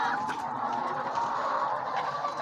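Laying hens crowd together inside a coop, their clucking and soft murmuring chatter forming a dense, steady flock noise that runs continuously with no voices over it.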